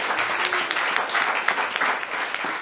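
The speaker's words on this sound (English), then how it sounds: "Yeah, we can clap for that." Audience applause at a DC Mayor's Office event, a dense, steady wash of many hands clapping at once, fairly loud and continuous throughout with no pauses.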